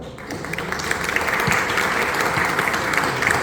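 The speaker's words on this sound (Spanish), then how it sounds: "Le damos un gran aplauso a don Fernando Delgado." Audience at a Santiago book fair applauds steadily for an author, a dense wash of clapping that holds at even loudness from start to finish.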